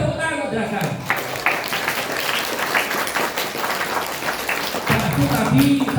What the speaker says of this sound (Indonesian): Tepuk tangan Jeragan.